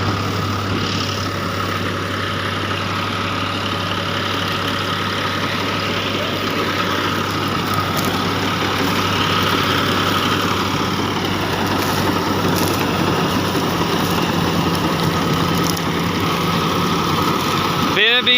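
A John Deere 5405 CRDi tractor drives a KSA straw reaper, its diesel engine holding a steady, loud, low drone and mechanical whir for the whole stretch, with people talking over it at times.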